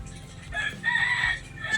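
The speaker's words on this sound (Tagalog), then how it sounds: "Yun, manok uli." A rooster crows once at a moderate distance, a drawn-out call over quiet background noise.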